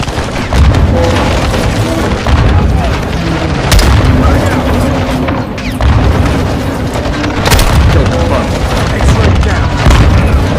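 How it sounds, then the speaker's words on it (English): Grenade explosions in Call of Duty Modern Warfare 2 produce loud, booming blasts amid continuous gunfire and battle noise, with soldiers shouting over the combat. "They're launching grenades!"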